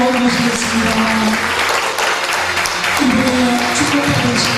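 Sustained applause from an audience at a lecture gathering fills the hall, dense and even throughout, with faint speech and a low hum underneath.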